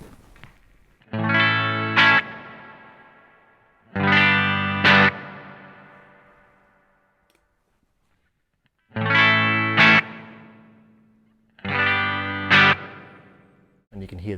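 Electric guitar run through a Vahlbruch Pipeline spring reverb switched between spring lengths, four strummed chords each hit with a splashy spring crash, the tails ringing longer on later chords before fading, with short gaps between.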